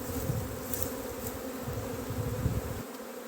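Honey bees buzz steadily at a hive while a swarm is being created on the coast, a dense, continuous drone of many insects with small shifts in intensity throughout.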